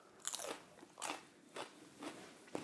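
Someone bites into a large Sugar Rush Peach pepper: five quiet, crisp crunches spaced about half a second apart, close up with no talking.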